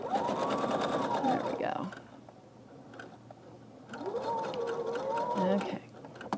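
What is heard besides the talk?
sewing machine stitching fabric pieces together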